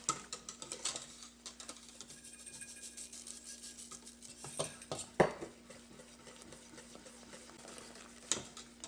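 Liquid soap made by the glycerin method with hot lye, stirred in a pot off the heat, giving quiet repeated metallic clinks and scrapes, with a louder clank or two and a steady background hum.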